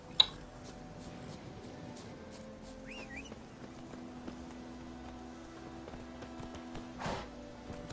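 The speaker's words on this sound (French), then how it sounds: "Allez, pousse-toi là, je vais monter sur mon cheval." Hooves of a horse being mounted in a video game, a faint steady clip-clop under soft ambient tones and occasional whistles.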